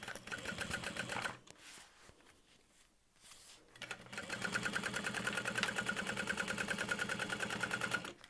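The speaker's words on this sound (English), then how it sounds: "So I'm just going to sew the bottom panel together." A sewing machine stitches the bottom panel of an extra-structured tote bag in a fast, even mechanical rattle, pauses for a couple of seconds, then resumes at a steady pace up close.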